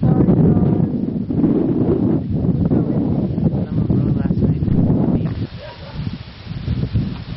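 Gusty wind buffets the microphone with a loud, rumbling roar that eases partway through, then picks up again.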